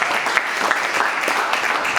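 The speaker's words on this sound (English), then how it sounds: "A round of applause." Audience applause at a BirdFair 2019 Question Time panel, a dense, even patter of clapping from an indoor crowd.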